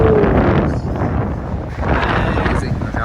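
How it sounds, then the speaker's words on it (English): Strong wind gusts buffeting the microphone at the Eiffel Tower in Paris on a windy December day, a loud continuous roar with rumbling swells that dip briefly midway. "I really hear the wind blow."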